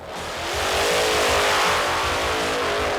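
A high-powered drag racing engine roars loudly nearby, its pitch climbing as it revs and then holding a sustained, rumbling scream with no voices.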